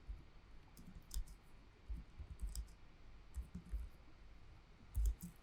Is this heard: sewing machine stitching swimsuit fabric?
no